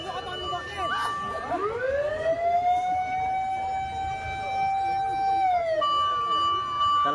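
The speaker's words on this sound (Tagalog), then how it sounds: "Dalawang fire truck na po." Fire truck sirens wail loudly on a street, one tone sweeping up and holding steady while another siren overlaps it, with faint voices underneath.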